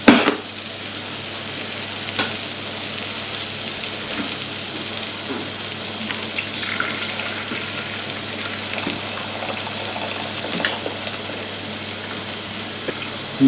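Mackerel fillets fry in butter in a frying pan, giving a steady, dense sizzle that runs unbroken and fairly loud throughout, with faint clinks now and then.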